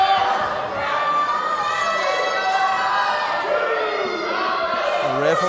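Loud wrestling arena crowd roars and jeers in a steady, dense wash of voices with scattered shouts, filling the whole stretch without letup.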